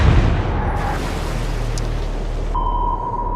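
Naval gunfire from a warship in the Atlantic Fleet game rumbles as a deep, sustained boom that fills the scene, with a low continuous roar and faint tonal beeps over it.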